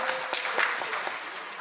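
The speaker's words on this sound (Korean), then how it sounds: "우리 함께 크게 박수하겠습니다." Church congregation applauding during a Sunday afternoon worship service, a dense patter of many hands clapping at moderate level for about a second and a half, steady without pauses.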